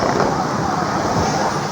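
Strong typhoon wind gusting outdoors on a July morning, a steady loud roar with wind buffeting the microphone throughout, no talk over it.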